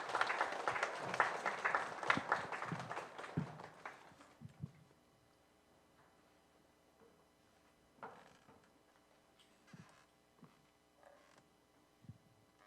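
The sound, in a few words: audience applause welcoming the preacher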